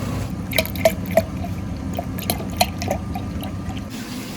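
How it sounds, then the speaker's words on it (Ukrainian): Water simmering in a pot, with scattered bright pops and drips over a low bubbling rumble, fairly close. "Якраз вода кип'ятиться."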